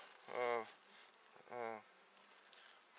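Honeybees buzz at a beehive in two loud, close humming swells about a second apart, with a thinner, steady drone of more bees continuing between them.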